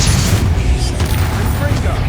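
Blasting-curse explosions from Hogwarts Legacy, Confringo spells booming in a dense, continuous barrage of loud, close impacts with a voice shouting over the din.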